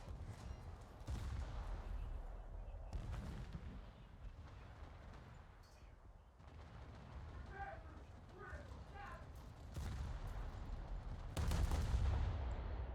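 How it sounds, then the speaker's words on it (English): A USS Pensacola in World of Warships fires a naval gun salvo, heavy booming shots spread through the clip with a louder blast near the end, and a person talks between them. "We'll send that salvo out and see what happens."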